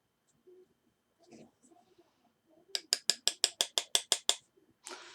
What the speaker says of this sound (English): Just light taps with my little hammer here.